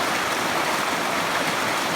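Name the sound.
fast-moving water of a waterfall on a creek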